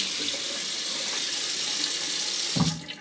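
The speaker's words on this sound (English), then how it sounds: "Another rinse." A water tap runs into a sink to rinse a Bic Twin Select disposable razor, a steady close gushing stream with a brief splash near the end.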